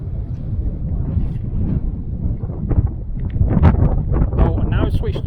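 An upstream wind gusts over the Poudre River on a late-February fly fishing day, a steady, close, buffeting rush of low-pitched noise across the mic that swells slightly near the middle.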